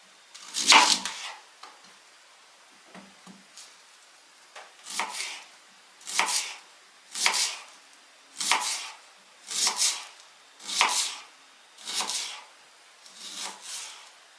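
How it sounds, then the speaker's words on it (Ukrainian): A knife slicing onion into half-rings on a board, about ten separate rhythmic cutting strokes at a steady pace, close and clear against near silence. "Цибулю я буду різати півкільцями."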